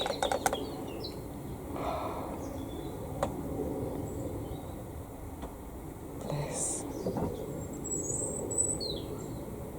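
Wild birds chirp and flutter in an allotment garden, with soft wingbeats and scattered faint calls over a steady outdoor background hum.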